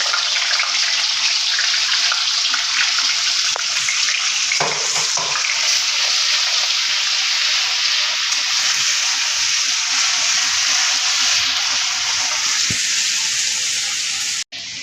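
Onion, ginger and garlic paste fries in a kadai for chicken curry, giving a loud, steady, close sizzle that runs unbroken almost to the end, with no talking.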